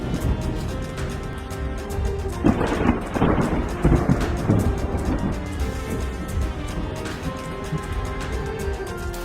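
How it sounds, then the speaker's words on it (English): Thunderstorm with steady rain hissing throughout and a loud rolling crack of thunder building and rumbling for a couple of seconds midway, fairly close, with no talk. "An extraordinary and captivating scene, a thunderstorm taking place inside a cloud."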